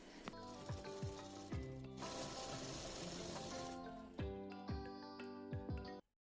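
A sewing machine stitches the side seam of a baby Patiala suit, its needle hammering in a steady mechanical rhythm with a brief lull in the middle, then it stops abruptly.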